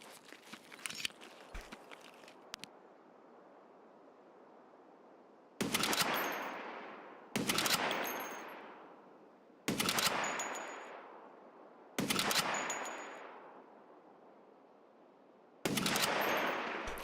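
Gunfire in the Escape From Tarkov shooter: five separate loud bursts of automatic fire, each cutting off into a long decaying echo, with faint clicks and shuffling before the first burst and no talk.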